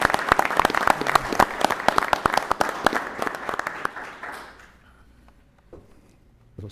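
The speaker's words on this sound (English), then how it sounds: "We can give ourselves all a round of applause" A council meeting room full of people breaks into loud, dense clapping that carries on steadily for about four seconds, then thins out and fades to a quiet room with a few scattered sounds.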